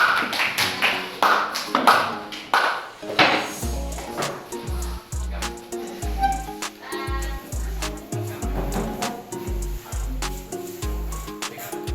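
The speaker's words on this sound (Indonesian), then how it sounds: "Beri tepuk tangan untuk kelompok 1." Several people clap in bursts of rhythmic applause in a classroom after a student group's presentation, loud and close, with scattered taps and a few voices in between.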